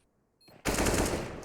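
Burst of rapid automatic gunfire in CS:GO on the Dust2 map during a kill: after a faint lead-in, sustained loud rattling shots fire continuously for nearly a second.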